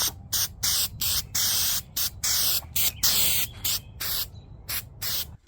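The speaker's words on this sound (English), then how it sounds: "spray weld through primer on the panel, inside and out" Short bursts of aerosol weld-through primer sprayed onto a Nissan 240SX quarter panel, inside and out, a rapid series of loud close hissing blasts separated by brief pauses, with no talking.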